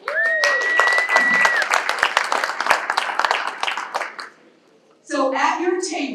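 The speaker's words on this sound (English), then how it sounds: "so give yourself a round of applause" Audience applause at a community breakfast for a state of the community address, a crowd clapping loudly for several seconds before fading, then voices speaking.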